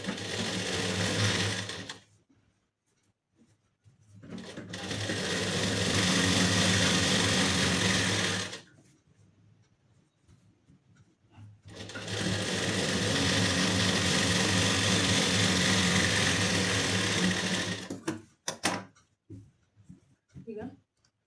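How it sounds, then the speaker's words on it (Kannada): Sewing machine stitching a lining piece onto a blouse runs in three long, steady bursts separated by short pauses, loud and close, with brief handling clicks at the end. "ನಾನು ಇಲ್ಲಿ ಕೂಡ ಸ್ಟಿಚಿಂಗ್ ಮಾಡ್ಕೊತೀನಿ"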